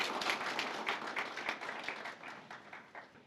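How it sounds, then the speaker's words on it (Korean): Audience applause welcoming a speaker at a policy seminar on real estate price disclosure, a crowd of hands clapping steadily, then gradually thinning and fading toward the end. "큰 박수로 맞아주시면 감사하겠습니다."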